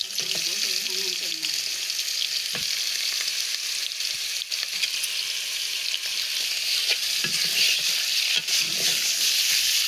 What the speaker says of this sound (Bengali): কেটে রাখা পেঁয়াজ দিয়ে হালকা একটু নেড়ে নিয়ে এর মধ্যে কেটে রাখা মাংস দিয়ে দেব